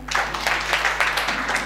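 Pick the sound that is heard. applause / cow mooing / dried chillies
applause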